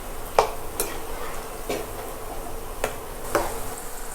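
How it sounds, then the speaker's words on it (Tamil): Cauliflower deep frying in hot oil for crispy snacks, a steady hiss of sizzling bubbles under occasional sharp clinks of a utensil against the pan, close and moderately loud. "இது 2 மினிட்ஸாக நல்லா டீப் ஃப்ரை ஆகிட்டு இருக்குது"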